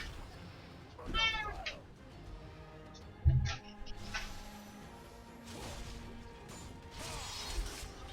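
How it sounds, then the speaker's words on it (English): A house cat meows a few times, moderately close, with a sharp knock and some faint rustling and whooshing in a quiet room. "I didn't let my cat out."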